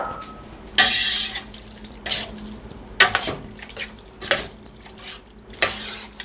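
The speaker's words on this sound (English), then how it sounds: "Okay, you just mix that all together." Mirliton (chayote) casserole ingredients being stirred together in a bowl: wet, squelchy spoon scrapes in repeated close strokes, with brief pauses between them.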